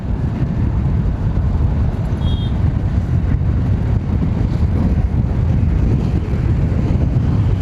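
Yamaha EC-06 electric scooter ridden at full throttle, a steady loud rush of wind and road noise with no motor roar, constant and unbroken throughout.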